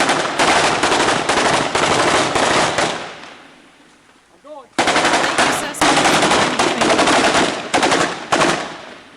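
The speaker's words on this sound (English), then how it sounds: "The sounds you just heard are United States Marines defending themselves with M4 rifles." Rapid bursts of M4 rifle fire from United States Marines in Iraq, loud and close, in long rattling volleys that drop away briefly to near quiet before the shooting resumes, with shouting mixed in.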